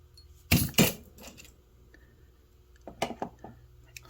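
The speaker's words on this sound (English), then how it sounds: "Now I'm going to take my cutters, cut off my extra wire" Wire cutters snip surplus beading wire on a jasper bead necklace, giving two sharp, close clicks in quick succession, followed a couple of seconds later by a cluster of lighter metallic clicks and taps.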